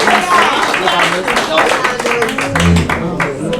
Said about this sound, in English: Let's give another hand of applause for Ms.